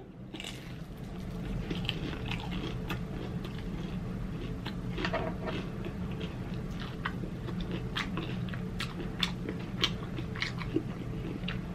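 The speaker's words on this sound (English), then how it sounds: "Let me test the egg roll in the cutie cue sauce" Close, steady biting and chewing of a crispy egg roll dipped in sauce, with continuous crunchy, wet mastication sounds over a low background hum, no talking.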